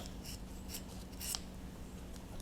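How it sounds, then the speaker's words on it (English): Several short, crisp snips of scissors cutting through felt fabric, spaced irregularly, close up over a steady low background hum. "using my scissors"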